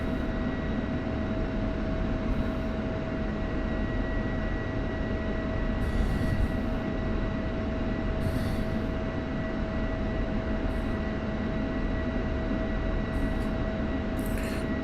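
F-16 jet in the DCS flight simulator rolling along a taxiway toward runway 5, a steady loud engine whine and rumble with constant tones running throughout, joined by brief bursts of higher hiss at intervals.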